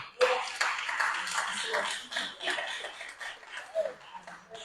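A church congregation applauds and cheers during a sermon, a steady, noisy wash of many hands clapping, with scattered voices and laughter mixed in.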